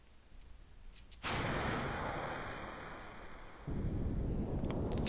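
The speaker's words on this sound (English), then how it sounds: "With everything loaded, we launch our rocket." A rocket launches in the video game Kerbal Space Program, a loud, sustained rumbling roar that kicks in abruptly and then surges even louder as thrust builds, with no voices over it.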